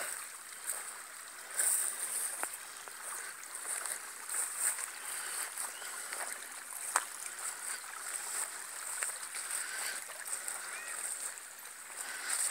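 A creek flows and trickles during a walk across it outdoors, a faint, continuous bright wash of water with small splashes and scattered ticks.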